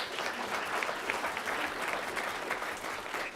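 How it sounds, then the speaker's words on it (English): Steady applause from an open house crowd at a painting unveiling, an even wash of many hands clapping at moderate volume with no one speaking. "Let's give her a round of applause."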